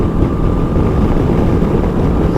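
Engine of a 2019 Honda CB500X motorcycle while riding, with a steady low drone and faint whine mixed with wind rush, constant and close throughout.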